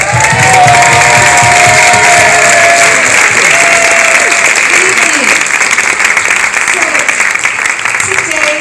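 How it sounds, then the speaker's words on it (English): A large audience at a stage performance breaks into loud, sustained applause with cheers and shouts, a dense wash of clapping that fills the room, and voices are heard through it. "Can we all give a round of applause for the Los Angeles Northeast Region team?"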